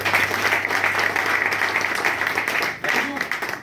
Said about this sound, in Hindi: सर्वप्रथम जोरदार ताली होनी चाहिए